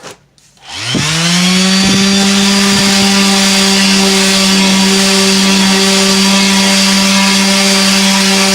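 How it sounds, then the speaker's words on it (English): A power sander spins up and runs at a loud, steady high whine while rounding a tile edge into a bullnose, sustained and close without pause. "you'll watch it work all the way up as you slowly roll the sander up"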